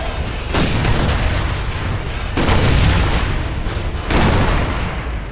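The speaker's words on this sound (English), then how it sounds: "Blowing up the Locust is pretty fun in this thing." Repeated heavy booms from explosions blowing up Locust enemies in Gears of War 2, three loud broad blasts a couple of seconds apart over constant rumbling game noise.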